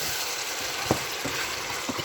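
Palm oil chicken stew being stirred in a pot, a steady bubbling sizzle with a few soft scraping clicks of the spoon, close and continuous over a couple of seconds.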